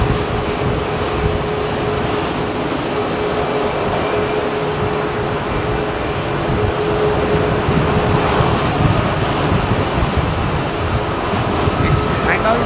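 An airliner with General Electric engines departs Heathrow runway 27R, producing a loud, steady broadband jet roar that holds throughout, with a voice talking over it.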